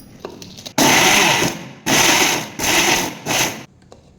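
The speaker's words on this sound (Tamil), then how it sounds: "இதை நம்ம குட்டி குட்டியாக மிக்சி ஜாரில் பிச்சு போட்டு ஜஸ்ட் ஒரு பல்ஸ் மட்டும் ஓட்டி எடுத்துக்கலாம்" A mixer grinder jar is pulsed on gram flour dough, giving four loud, close whirring bursts about a second each, separated by short pauses, with faint handling noises before the first burst.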